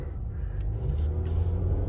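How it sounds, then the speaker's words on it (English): A 2022 Mitsubishi Outlander base model drives along the road, a steady low rumble of engine and tire noise heard from inside the cabin, fairly quiet and even. "Let's take it out for a quick drive here."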